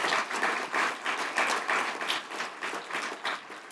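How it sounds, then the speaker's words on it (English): A large seated audience at a faculty convocation gives sustained applause for a national-champion men's soccer team, a dense, steady wash of many hands clapping with no talk over it. "Let's give them a big round of applause."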